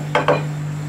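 Two quick metallic clinks of a spoon against a pot while stirring keema matar, over a steady low hum.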